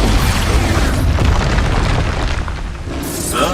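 An Expulso explosion spell from the Hogwarts Legacy game booms loudly and close, a dense rumbling blast that holds for about three seconds before a brief sharper crackle near the end.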